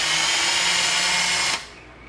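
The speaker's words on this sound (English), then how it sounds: "So what we're going to do is we're going to come in with our drill bit." A power drill bores a hole through EVA foam for a brass dowel on a gauntlet prop, a steady loud whir running close for about one and a half seconds before it stops abruptly.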